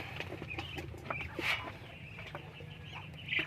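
A hen clucks in a few short, soft calls close by, with a quiet farmyard hum behind and no talk.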